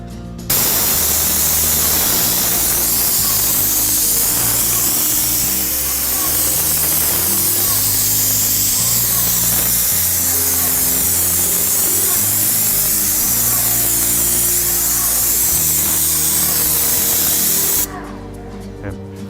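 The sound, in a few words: spraying Vycor enV weather resistive barrier membrane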